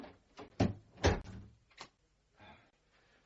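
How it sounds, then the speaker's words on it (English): A door is pushed shut in a radio drama, several close wooden knocks and thuds followed by a firm closing bump and a fainter rattle, in a quiet room with no speech. "If you shut this door, we can switch the lights on"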